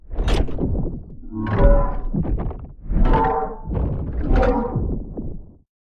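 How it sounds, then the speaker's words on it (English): Designed two-hand sword motion swings layered with sweetener sounds for an aggressive cold weapon: four heavy, close swishes with a tonal metallic ring, each rising and fading, with no talk. "These are the motion and sweetener sounds of the two-hand sword."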